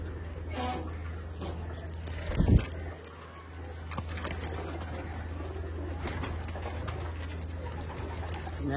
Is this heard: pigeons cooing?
yes